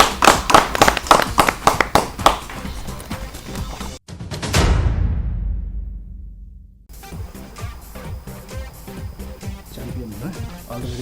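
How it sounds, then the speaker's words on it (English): Steady rhythmic clapping for a team at a school quiz final in 2019, quick even claps for about four seconds, then a heavy boom that fades out, followed by busier layered sound. "Big round of applause, Team D, Lady Keen."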